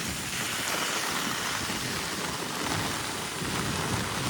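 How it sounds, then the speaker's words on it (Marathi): Steady, heavy monsoon rain in Virar hisses continuously, a dense even roar with no voices or breaks. "जरा जोरातच पाऊस आला."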